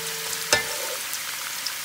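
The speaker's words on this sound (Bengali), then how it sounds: "এটা আমি এখন এটা বাদামি করে ভেজে নিব" Chopped onion frying toward brown in a pan makes a steady soft sizzle with one sharp clink of a utensil partway through, close and without talk.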